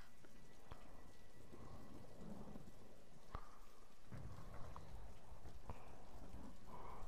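Steady rain pours in a video game storm, broken by several sharp thunder cracks and rumbles at irregular intervals, moderately loud, with no voices.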